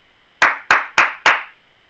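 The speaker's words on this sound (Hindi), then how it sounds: "तालियां बज गई हैं" A group claps for a student in a class: four loud, sharp, evenly spaced claps in quick succession, close by and otherwise quiet.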